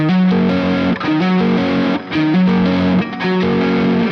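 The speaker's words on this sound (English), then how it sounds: "or like string noise, or, you know, notes overlapping together" A distorted electric guitar plays a repeating phrase with notes bleeding into one another and gritty, smeared string noise between them.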